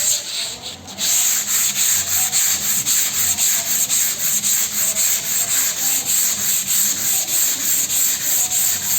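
Body filler on a car panel is block sanded by hand, a loud rhythmic rasping scrape in even back-and-forth strokes, close up and steady with no talking.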